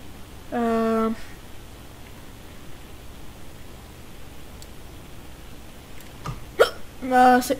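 Two sharp, voiced hiccups from a person, one early and one several seconds later, each short and close, separated by quiet room hiss.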